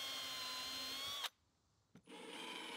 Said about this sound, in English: I'm using a 7/32 drill bit for the larger hole and an 1/8 drill bit for the smaller hole.